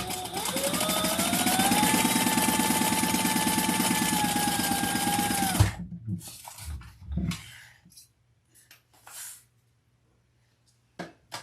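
A sewing machine runs a quarter-inch seam in one continuous whirring burst for several seconds, then stops, followed by sparse handling clicks and quiet movement.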